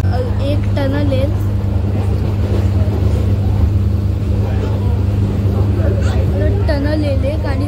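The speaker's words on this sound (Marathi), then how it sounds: "ट्रेननी खूप रफ्तार पकडली आहे." An underslung Medha AC EMU local train runs at high speed between Dadar and Diva, giving a loud, steady rumbling roar throughout while someone talks over it.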